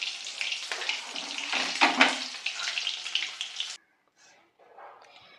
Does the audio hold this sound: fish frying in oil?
yes